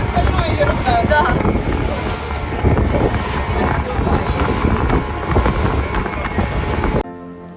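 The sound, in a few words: motorboat ride in stormy wind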